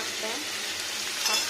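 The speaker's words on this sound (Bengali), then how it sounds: "ভাজা ভাজা করবো একটু" Leafy greens fry in a pan for a vegetarian rice lunch, giving a steady, close hiss of sizzling oil with faint stirring and no voices.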